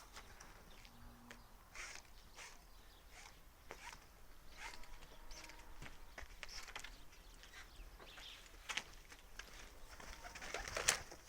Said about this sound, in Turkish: Murat kuşlar efsane dediğin gibi.